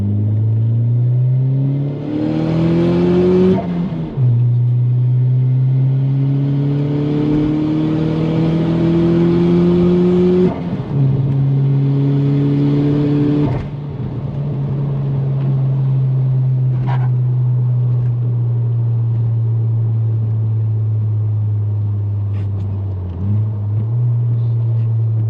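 Heard from inside, a big-turbo 2-litre 8V engine in an MK4 VW Jetta Wagon pulls hard through gears, its drone climbing in pitch, then dropping at each shift and settling into a steady loud hum.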